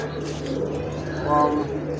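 A pigeon at a pigeon sale gives a soft, throaty coo close by, rising briefly over a low steady background hum.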